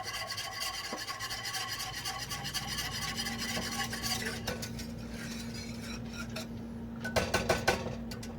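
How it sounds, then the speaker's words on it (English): Whisk scraping and rasping in a bowl of rice vinegar for homemade Chinese takeout-style sweet and sour sauce, continuous close rubbing strokes with a few brighter clinks near the end. "Go ahead and give it a bit of a whisking in between"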